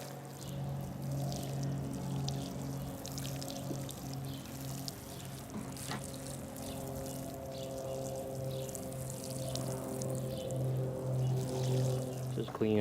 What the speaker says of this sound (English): And just water this in.